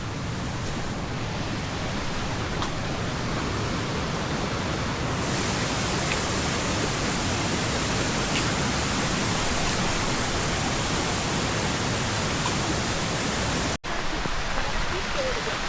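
A heavy monsoon downpour falls on hikers descending the Nalichi Vaat trail below the Keveni plateau. It makes a loud, unbroken roar of rain that holds steady for the whole stretch, with only a brief dropout near the end.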